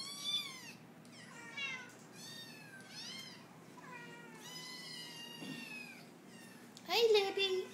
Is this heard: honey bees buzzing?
no